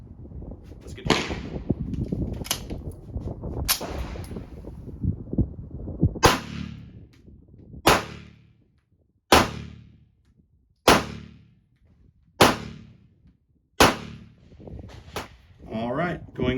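Ten-shot string of Remington 115 grain 9mm pistol rounds, sharp loud reports spaced about every second and a half with ringing decay, preceded by muffled talk and handling noise.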